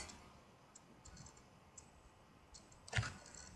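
A computer mouse gives a single crisp click near the end, close and brief, after a few faint ticks over a quiet room background, with no voices.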